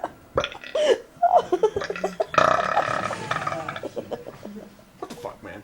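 Loud, drawn-out burps from a man, several coming in succession with a long rumbling one in the middle, mixed with laughter and excited talk from people nearby.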